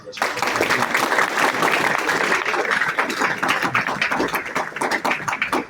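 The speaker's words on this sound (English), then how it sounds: "he deserves a round of applause" A crowd at a baseball team banquet applauds steadily, dense clapping sustained at a fairly loud level throughout, with no talking over it.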